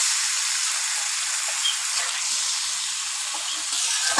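Singi fish fries in a hot pan, giving a steady, close, loud sizzle and hiss that runs unbroken throughout, with faint stirring crackles.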